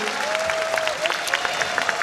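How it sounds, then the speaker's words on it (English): Audience applause at the Intel Extreme Masters Dallas 2023 esports grand final, a steady wash of clapping and crowd noise across a large venue, continuous and moderately loud with a faint tonal whistle running through it. "how about a little round of applause for my analysts here?"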